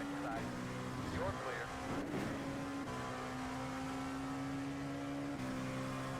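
Race cars in an iRacing endurance event at Indianapolis, including a GT3 car, drone steadily close by with a sustained engine tone, and a pass briefly swells the sound. Faint voices sit under the engines.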